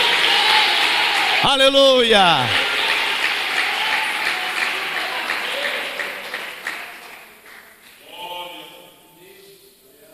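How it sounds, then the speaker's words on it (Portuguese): A church congregation applauds loudly and steadily during a service, with a voice calling out over the clapping and the applause tapering off toward the end. "Um aplauso bem forte a Jesus."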